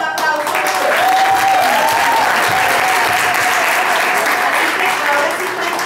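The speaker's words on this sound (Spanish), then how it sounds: "Yo daría un aplauso." Sustained applause from a large audience of around 300 people at an Oriflame meeting in Cúcuta, loud and steady throughout, with a faint voice briefly audible over it.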